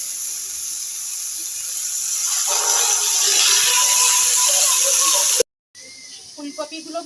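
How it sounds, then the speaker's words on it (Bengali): Cauliflower florets with a little turmeric and salt fry in oil in a wok, giving a loud, steady hiss and sizzle that swells midway. It cuts off abruptly, then softer clinks and handling sounds follow. "ফুলকপিগুলো ভাজা হয়ে গেছে"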